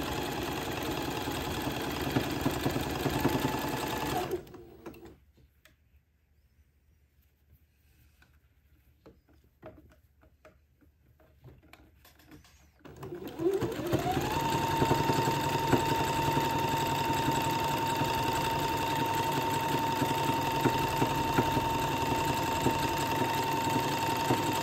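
A sewing machine zigzag stitching an entre-deux cuff to a baby dress sleeve hums and rattles steadily up close, stopping briefly midway before starting again with a rising whine.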